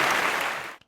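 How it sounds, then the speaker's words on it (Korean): Audience applause welcoming Barnabas at a children's church service award segment, a dense steady wash of clapping that fades out near the end. "박수로 맞이해주세요."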